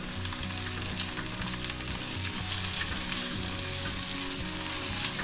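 Onions sizzle steadily in hot coconut oil while an elk curry cooks, a constant close frying crackle with faint stirring and no talking.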